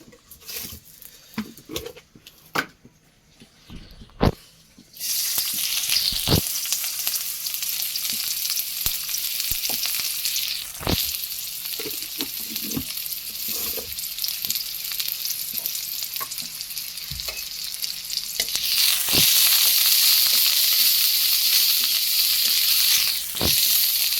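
Onion fries in hot oil for a beef curry. After a few quiet clicks, a loud, dense sizzle starts suddenly and grows stronger near the end, with occasional stirring knocks.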